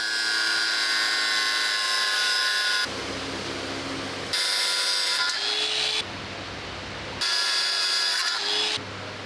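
Metalworking tool shaping fake rivets on sheet metal for the shield of a WWI Hamel cannon under restoration, a loud high-pitched grinding whine running in bursts that stop and restart several times.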